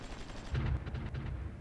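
Artillery fire in the strategy video game Supreme Ruler Ultimate, a few muffled booming shots with low rumble over about a second and a half, fairly distant and moderately loud.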